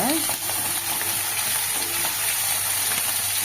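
Red and green chillies fry in hot oil, a steady close sizzle with crackling throughout and brief stirring scrapes.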